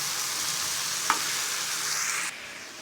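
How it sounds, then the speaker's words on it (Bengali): Mutton and okra frying in a pan, a steady broad sizzle with one brief scrape of stirring, alone with no voices, dropping quieter near the end. "ভালো করে নেড়ে চেড়ে নেব এবং ভেন্ডিটাও ভালো করে নেড়ে চেড়ে লবণটা মিশিয়ে নেব"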